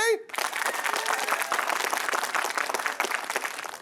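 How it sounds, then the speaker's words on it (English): A studio audience breaks into loud, sustained applause after a brief opening voice, the dense clapping holding steady and close throughout. "give me a big loud clap"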